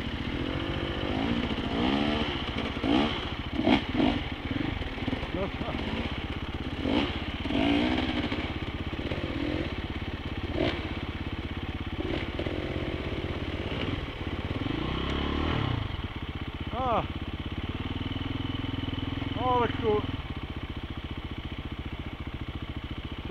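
A motorcycle engine runs in mud, revving and labouring up and down in close, uneven bursts with clattering and scraping, then settling toward a rough idle near the end.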